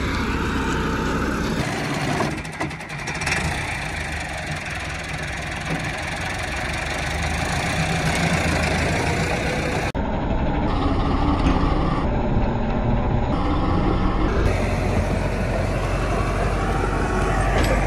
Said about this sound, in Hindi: माशाल्लाह अब ये ज़मीन को रूटर दूसरा हल लग रहा है